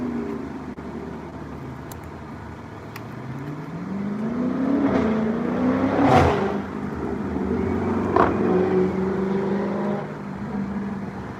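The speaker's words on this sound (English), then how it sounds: "My boy put a muffler on the RT." A car engine on an R/T with a new muffler revs up and down in a couple of swelling pulls, loud and nearby, with no talking.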